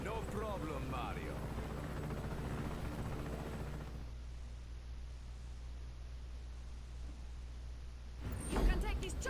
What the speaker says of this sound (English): You can take this chopper, Fratre.